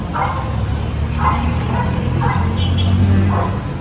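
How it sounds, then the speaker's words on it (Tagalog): A dog barks in short repeated bursts, about four times at a steady pace, somewhat distant over a constant low rumble of wind. "Sorry sa ingay ng aso."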